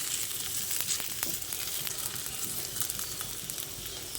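Potatoes sizzle and crackle in hot oil in a steady, dense frying hiss, fairly quiet and close, with no voices.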